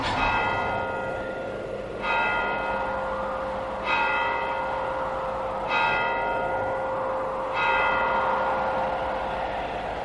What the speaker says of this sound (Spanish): Las 12 sonaron en el reloj del postigo. Beatriz oyó entre sueños las vibraciones de la campana, lentas, sordas,